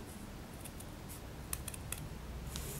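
Scissors cut paper to shape a paper rose: faint, crisp snips come in a quick cluster partway through and again near the end, over a quiet room hush.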